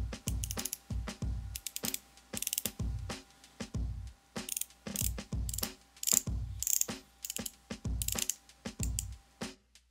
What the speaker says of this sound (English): Now this is a 60-click bezel today, and of course it's a dive time bezel, so it's only going to rotate one way